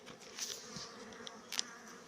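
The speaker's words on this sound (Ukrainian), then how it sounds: "Я підніму зараз бджоли всіх хлинуть наверх." Honeybees in an opened hive buzz softly in a faint, continuous drone, with a few brief louder buzzes passing close by.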